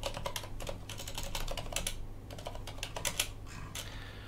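Fingers typing a terminal command on a computer keyboard for a Linux package install, a quick run of close, crisp key clicks in bursts with short pauses, alone without talk.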